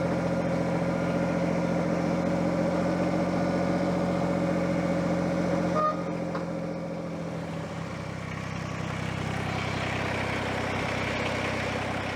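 A steady tractor engine idles and rumbles for several seconds, then the tone shifts and settles at a slightly lower, calmer level.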